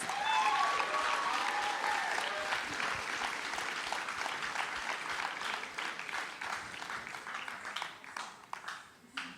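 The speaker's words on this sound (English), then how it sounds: "Let's give them another warm round of applause" Applause for two young Bharatanatyam dancers at their arangetram fills the hall as a dense, sustained wash of clapping that gradually thins into scattered individual claps, with faint voices beneath.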